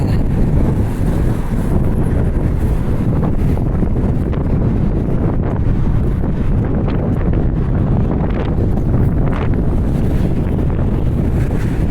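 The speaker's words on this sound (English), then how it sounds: "It's kind of windy right there. So you might hear some noise until I get off the bridge." Strong wind on the Macdonald Bridge between Halifax and Dartmouth roars and buffets the microphone without a break, a loud, steady rumble that drowns out everything else.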